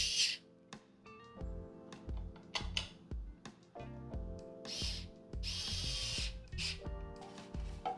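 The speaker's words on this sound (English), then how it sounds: "We decided to use a cordless screwdriver to preserve our hands." Cordless screwdriver driving screws during a modern 52-inch ceiling fan installation, heard in repeated short whirring bursts separated by brief pauses, close and fairly loud.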